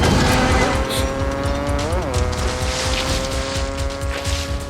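Truck chase through flood channels with tire squeals, a sustained roar of engines and a squeal that bends in pitch mid-clip, loud and continuous over the whole clip.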